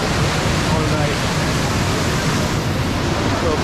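Rushing water pours from the Gizlikent waterfall in Saklikent National Park, Turkey, a steady loud broadband roar that fills the whole moment without pause.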